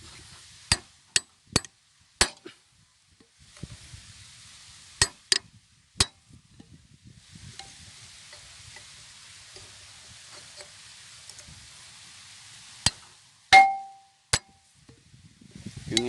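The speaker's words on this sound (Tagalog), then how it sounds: "tsaka pupukpukin lang natin guys para matanggal tong malaking nut" Sharp metallic hammer blows strike the large flywheel nut of an R180 diesel engine, coming in irregular bursts of single knocks with quiet pauses between, close and loud.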